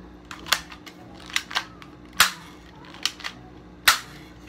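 A cheap five-dollar BB gun fires several sharp, snappy pops at uneven intervals, each a close, dry crack without any voices.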